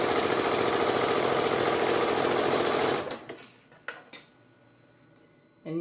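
A sewing machine stitches a three-layer pleated fabric mask in a loud, fast, steady whir for about three seconds, stops, then briefly restarts near the end after a few soft handling sounds.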